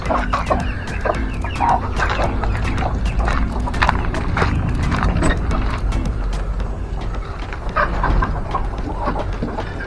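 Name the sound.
chickens clucking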